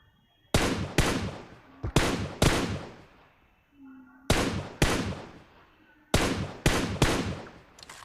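Shooting video game with an M4 rifle and a Kar98: sharp loud gunshots in clusters of two or three, each followed by a short decaying echo, with quiet gaps between bursts and a faint voice briefly in between.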